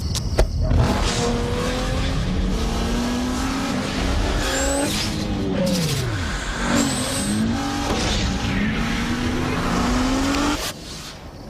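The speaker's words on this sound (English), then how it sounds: "The 265 horsepower Nissan Maxima." A 265 horsepower Nissan Maxima drives hard in a TV advert, its engine rising and falling through revs with tire squeal and skidding, loud and continuous before cutting off near the end.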